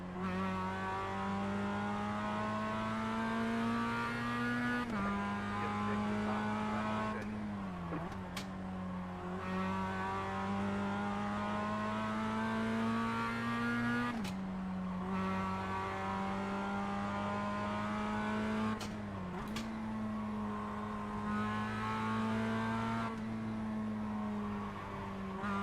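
Mazda MX-5 race car engine in the iRacing sim, droning steadily at high revs with brief dips at gear shifts and lifts, loud and continuous throughout with no talk.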